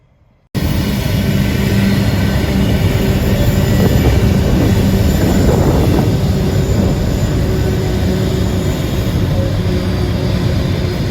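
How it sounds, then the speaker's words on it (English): A heavy coal train rolls past with a loud, continuous rumble and grinding that stays steady for several seconds, with no voices. "More coal trains. Look at the size of it."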